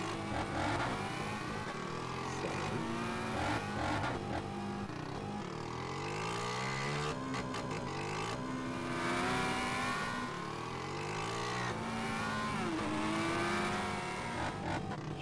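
A motorcycle engine in a GTA game revs and climbs through gears continuously, pitch rising and falling with repeated shifts, loud and close throughout.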